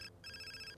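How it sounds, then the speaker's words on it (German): A mobile phone ringing in The Sims 4, a short, faint electronic ringtone of steady tones broken by one brief gap. "Klingeln jetzt schon wieder von Handys"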